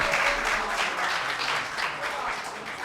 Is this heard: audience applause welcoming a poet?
yes